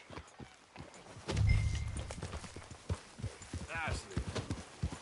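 Rhythmic hoof clip-clops of a horse on the move in Red Dead Redemption 2, moderately close, with a voice talking over them and a brief whinny near the end.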